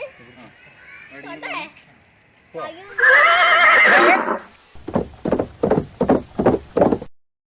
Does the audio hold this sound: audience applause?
no